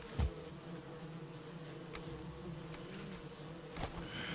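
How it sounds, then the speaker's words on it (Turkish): A low, steady insect buzz rises from a beehive in the video game Valheim, faint and continuous beneath quiet game ambience, with a few soft clicks and no talking. "Kovan var. Sesi geliyor."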